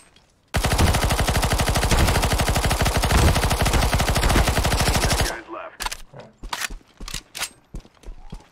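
Sustained rapid automatic fire from a PP-Bizon submachine gun in CS:GO, a dense unbroken burst lasting several seconds, followed by scattered single sharp shots and clicks.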